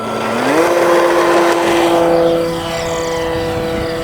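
A radio-controlled model airplane's engine revs up sharply to a loud, high steady whine as it takes off close by, then fades a little as it moves away.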